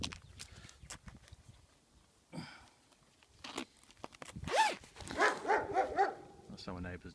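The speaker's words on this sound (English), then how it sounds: "That's our neighbour's dog. Bloody barks all the time." A neighbour's dog barks in scattered bursts of sharp, medium-distance barks, with a louder cluster near the end, interleaved with people talking nearby.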